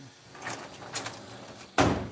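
Heavy-duty tool cabinet drawers slide in a few rolling, rumbling strokes, with a final firm thud as one shuts in a garage.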